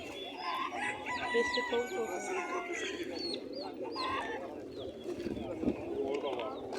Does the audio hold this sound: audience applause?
no